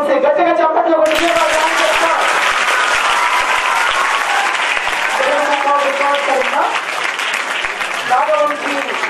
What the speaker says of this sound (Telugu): నాగవంశీ గట్టిగా చప్పట్లు కొట్టి